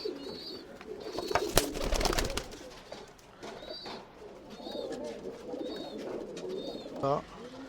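Tumbler pigeons in a loft in Bangalore give repeated soft, nearby coos with a few sharp flutters and knocks, while a voice murmurs in the background.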